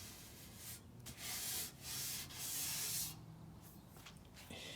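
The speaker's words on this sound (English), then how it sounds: "it's just more of the same, more body filler and sanding" Hand sanding of body filler on a car bumper, several rhythmic rasping strokes in bursts with short pauses between them, close and fairly quiet, with no talking.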